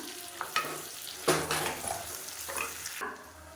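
A large onion, sliced lengthwise, sautés in hot oil with spices for biryani, giving a steady sizzle broken by several loud scraping stirs of a spatula in the pan, close up and with no talk.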